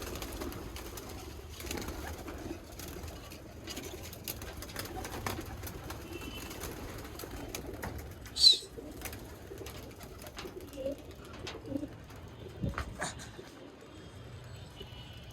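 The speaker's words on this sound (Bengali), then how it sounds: "বাসার কবুতর খালি পাল্লার কবুতর ছেড়ে আইছি" Released racing pigeons cooing softly at a distance, low murmuring coos across the whole stretch with occasional sharper bird calls and faint background noise, no speech.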